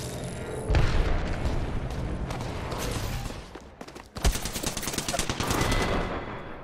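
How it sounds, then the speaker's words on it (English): Grenade blast and rapid gunfire in a firefight from Apex Legends, dense and loud throughout, with a sharp heavy boom near the middle followed by sustained bursts of automatic shots. "Look out, grenade."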